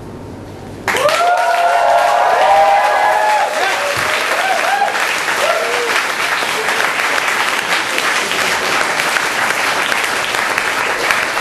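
Loud, sustained applause from an audience at a university poetry slam, the crowd clapping steadily for several seconds after a poem ends, with some cheering at the start.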